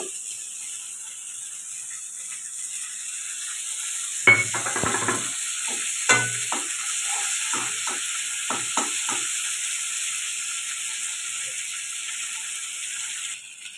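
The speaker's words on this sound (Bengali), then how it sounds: "নিম পাতাটা খুব ভালো করে ভাজা হয়ে গেছে" Neem leaves fry in hot oil in a wok with a steady close sizzle, broken midway by a series of short scraping stirs of the spatula.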